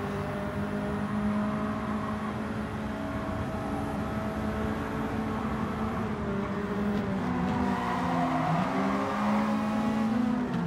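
A race car driven in Gran Turismo 7 on PS5, a Silvia, holds a steady engine drone throughout with shifting pitch as it revs and eases, steady and fairly loud with no talk over it.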